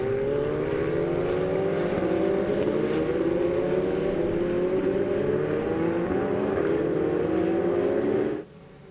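Ferrari Challenge race car flat out at over 160 mph on the COTA circuit approaching the turn 12 braking zone, a loud sustained high-revving engine whine with rising pitch sweeps, cutting off abruptly near the end.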